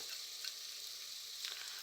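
Whole garam masala spices go into hot oil: a bay leaf split down the middle, cinnamon pieces, four green cardamoms and three black cardamoms. They give a soft, steady sizzle with a few faint crackles, and no one speaks.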